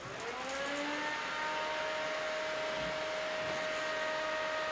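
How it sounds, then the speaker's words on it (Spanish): An electric fan blows air, its motor whine climbing in pitch as it spins up, then settling into a steady, moderately loud droning hum. "aquí hay ventiladores, porque en verano hay que darse airecito"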